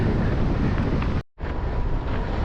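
Strong headwind roars and buffets a microphone in a dense, steady rush while riding downhill on a gravel bike on the Dempster Highway, cutting out abruptly for a moment before resuming just as loud.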